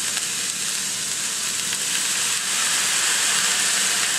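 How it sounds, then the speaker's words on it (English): Steady, loud sizzling of sauce hitting a hot pan of broccoli slaw, a continuous bright hiss and crackle that holds for several seconds with no talking. "Okay, that sizzle."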